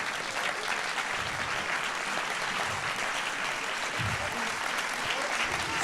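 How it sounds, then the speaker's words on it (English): An audience applauds filmmaker Julia Bacha after a screening of her film at a forum Q&A, steady broadband clapping filling the room at an even level throughout, with no voices heard. "qu'on peut applaudir pour son film."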